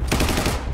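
A short, dense burst of rapid automatic gunfire from the video game The First Descendant, loud and close, lasting under a second.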